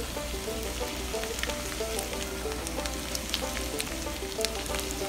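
Tofu and onions sizzle steadily in a hot pan, a continuous moderate crackle with scattered sharp pops and no voices.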